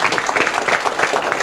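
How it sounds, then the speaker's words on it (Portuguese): A crowd claps steadily in dense, sustained applause inside a municipal council chamber during a special session, filling the whole moment with no pauses. "Dá uma salva de palmas para o pessoal da SATIC que está aqui."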